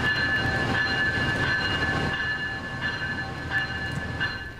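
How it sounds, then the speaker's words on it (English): Brightline high-speed passenger train on a test run in Orlando rumbling past steadily, a broad continuous roar with faint high tonal whine, loud at first and easing slightly as it moves on. "Right now, the train is just going through a test run,"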